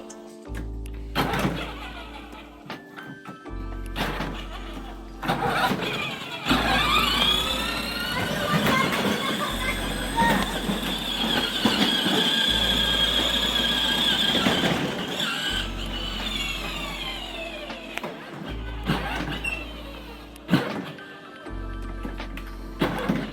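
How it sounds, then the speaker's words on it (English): A Power Wheels ride-on toy car drives out of a gap and reverse parks, with a motor whine stopping and starting in short bursts and squealing tones during the longer run, while people speak at times. "I want you to drive out of that gap, go around and try and park it back in."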